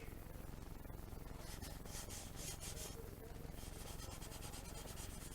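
Steady sandpaper rubbing on a plastic AMT Star Trek Klingon D7 battle cruiser model kit before clear coat, a continuous faint scratchy scrubbing with a quickening rhythm in the middle, no talk.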